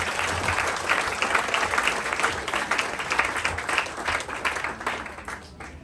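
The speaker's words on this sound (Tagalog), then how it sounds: "Malakas po na palakpak para kay Jesus." A church congregation applauds steadily for several seconds, a dense wash of clapping that stays fairly even before tapering slightly at the end.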